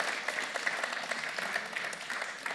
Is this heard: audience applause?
yes